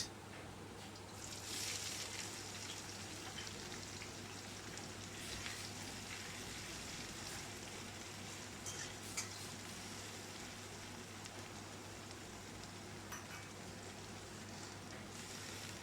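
Chopped onions frying in oil spiced with garam masala, cinnamon, cardamom and cloves, a steady soft sizzle and crackle with a low hum behind it, faint and unbroken.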